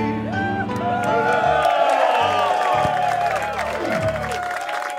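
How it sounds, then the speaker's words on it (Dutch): A crowd at a carnival sitting claps and cheers loudly and continuously while music with sliding tones plays through it, the applause close and dense throughout. "applaus"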